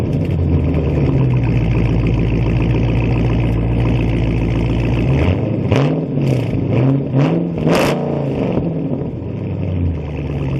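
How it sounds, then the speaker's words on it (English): 2019 Dodge Charger Scat Pack V8 settling from a loud, deep rumbling idle into a series of sharp throttle blips, several quick revs rising and falling close by with no talk. "let's hear some of this V8 muscle"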